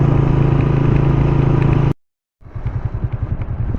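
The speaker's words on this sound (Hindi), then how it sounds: "वैसे पहले दानी भाई को मोटरसाइकिल चलाते हैं या गाड़ी पे जाएँ, तो आज खुद चला रहा हूँ" A motorcycle engine drones loudly and steadily while being ridden on an open road toward a dam, cuts to silence for a moment, then resumes with a rougher, slightly quieter running rumble.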